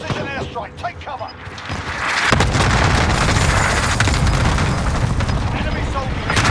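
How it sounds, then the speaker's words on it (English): Precision airstrike explosions in a first-person shooter video game, a sustained, loud rumbling barrage of booms and blasts that swells after a couple of seconds, with game voices calling out over it. "Enemy precision airstrike! Take cover!"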